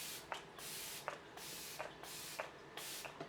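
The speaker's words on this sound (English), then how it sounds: "This is the Flower Beauty Hydrating Setting Spray." Flower Beauty Hydrating Setting Spray hisses from its pump bottle in a series of about six short, evenly spaced bursts, close and quiet.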